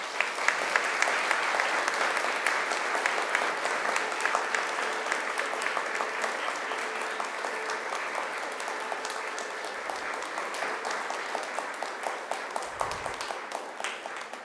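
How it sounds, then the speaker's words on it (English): A large graduation audience in a ceremony hall applauds at length, a steady, dense wash of clapping that holds for over ten seconds and slowly tapers slightly. "huge round of applause."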